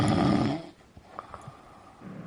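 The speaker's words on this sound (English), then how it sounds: "Stop snoring" A person snores with one heavy, rasping breath in the first half-second, followed by quiet snuffling and small clicks before another soft inhale rises at the end.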